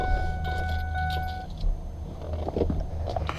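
The 7.3 Powerstroke diesel in a pickup truck rumbles low and close, then cuts off after a steady chime stops; clicks, key jingles and cabin rattles follow as the engine noise dies away.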